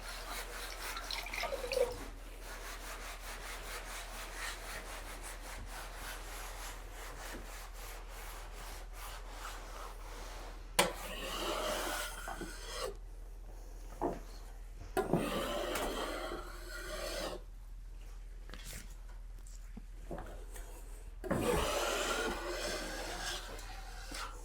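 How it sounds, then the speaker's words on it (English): Scraping wet filler plaster off a wall during an 80s house renovation, a repeated rough rasping scrape close by, in bursts with short pauses between strokes. "Right, let's try scraping."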